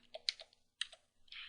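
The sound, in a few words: typing on a computer keyboard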